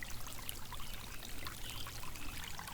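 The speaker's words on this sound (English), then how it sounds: "I'm gonna try to fill up the gallon in this" Water pouring steadily into a gallon container outdoors at a campsite, a continuous broadband rush and trickle heard close and alone throughout, with no talking.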